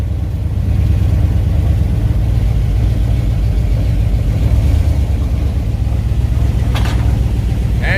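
A 1970 Dodge Charger with a rebuilt 318 V8 runs steadily and loud, its low rumble pulsing evenly throughout as it is put into gear, with a brief mechanical clunk near the end.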